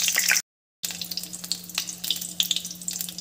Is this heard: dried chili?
yes